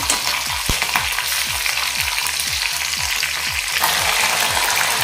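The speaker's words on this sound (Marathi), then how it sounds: "आता यातच मी आलं लसूण पेस्ट घालते" Ginger garlic paste and slit green chillies sizzling in hot oil over a low flame for bitter gourd curry, a loud continuous crackling fry with a repeating low clatter underneath, growing brighter near the end.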